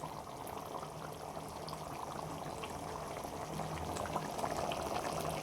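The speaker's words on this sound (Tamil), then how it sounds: "அது நல்லா கொதித்து வேகணும்." Lentil ball kuzhambu simmering in a pot at a steady, gentle boil, the soft continuous bubbling faint and even throughout with no voices.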